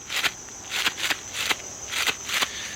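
A Tree Thrasher deer call imitates a deer's hoof stomp, giving a run of short, dull, scuffing thumps in quick, uneven succession, close over steady insect noise.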